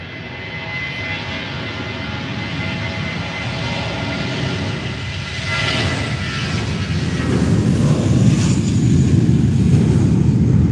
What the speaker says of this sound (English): There goes the BA, British Airways, to London Gatwick